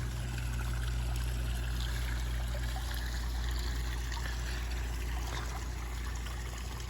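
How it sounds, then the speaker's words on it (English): A backyard pond waterfall with goldfish and bluegill, splashing and trickling steadily at close range, loud and unbroken for the whole stretch with no voices. "You see the waterfall is finally working well."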